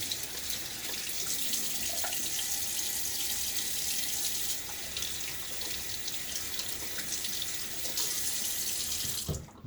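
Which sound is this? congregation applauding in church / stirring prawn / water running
water running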